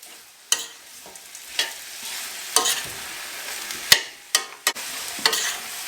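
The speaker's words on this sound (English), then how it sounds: "we're tossing this and we're going to heat it through." Boiled yam fries in a pot as it is tossed, giving a soft background sizzle broken by roughly ten sharp scraping clatters of a spoon against the pot at irregular intervals.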